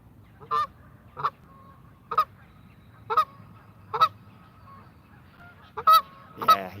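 A goose honks loudly and repeatedly, about eight sharp calls spaced roughly a second apart near the microphone, with low background noise between them, outdoors during a spring-break carp fishing outing.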